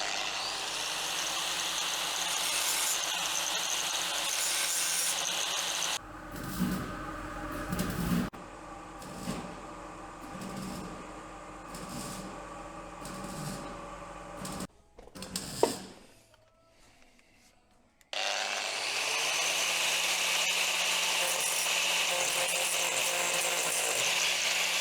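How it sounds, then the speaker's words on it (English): Angle grinder and belt sander working over welds on a Volvo car body under restoration: a long steady abrasive whine, then a stretch of rhythmic mechanical grinding pulses, a brief sharp burst, a near-quiet gap and the steady whine returning. "we're going to be using the angle grinder to get in at these welds, as well with the belt sander"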